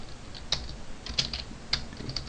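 Computer keyboard typing, a handful of quick, sharp key clicks in short bursts close by, with no talking over them.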